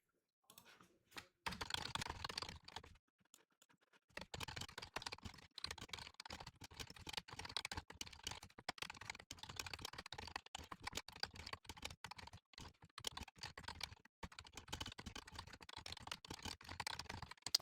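Rapid, steady clatter of keys on a computer keyboard as code is typed, close and fairly quiet, with brief pauses between bursts and no voices.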